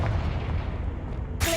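A fire-blast spell explodes in the Hogwarts Legacy video game: a loud, rumbling boom with a continuous low roar, ending in a sharp, bright burst of noise.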